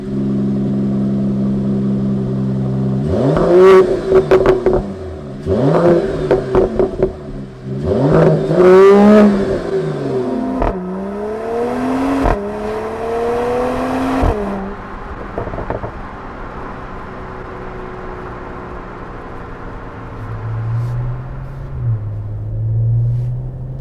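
A 2019 Mercedes-AMG CLS 53 accelerates hard through several gears, each loud rising engine sweep cut by a brief shift, then settling into a steady cruising rumble with a lighter drone near the end.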